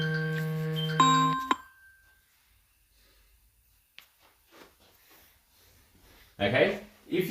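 A mobile phone rings with a bright electronic multi-tone ringtone for about a second and a half, then cuts off, followed by quiet breathing, small movements and louder handling noise at the end.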